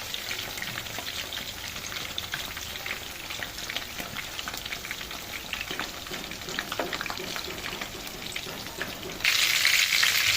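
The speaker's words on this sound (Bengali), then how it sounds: "এটা আরেকবার আমি ভেজে নেবো।" Chicken tikka pieces fry in a pan with a dense, steady crackling sizzle close up, which flares louder and brighter near the end as the heat or oil surges.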